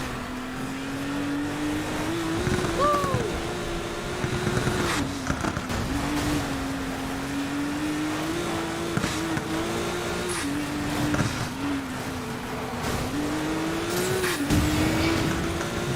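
Race cars in Need For Speed: Payback roar along a 14-kilometre race, engines droning steadily and rising and falling with each gear change and corner, up close and loud the whole time.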